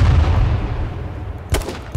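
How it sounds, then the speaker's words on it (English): A heavy distant gunshot boom rolls out in H1Z1 King of the Kill, followed by a sharper single crack near the end, set against a low rumbling background. "someone else is shooting at him"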